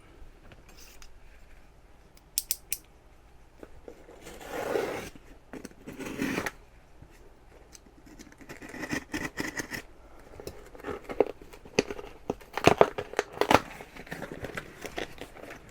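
Packaging for new C3 Corvette brake caliper parts is torn and rustled open up close, with crinkling plastic, paper scrapes and a few sharp snips in irregular bursts, and no talking.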